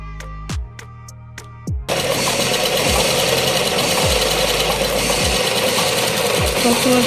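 Sewing machine stitching a blouse front: a few isolated mechanical clunks, then a continuous fast whirring run of stitching, close and steady to the end.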